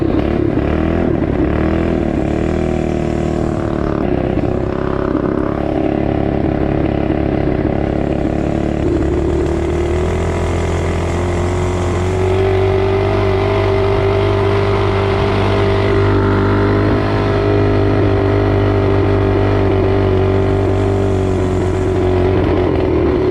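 A Coleman CT200U mini bike engine with high-rpm ignition cutouts runs loud and close, its buzzing note climbing, dropping and rising again through long revs with no voices.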